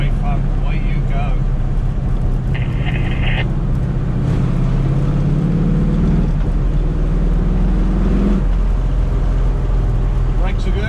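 A 1968 Ford Mustang coupe with a 351 stroked to 410 and a five-speed manual drones steadily from inside the cabin while driving, engine note rising and falling through gears, with someone talking over it.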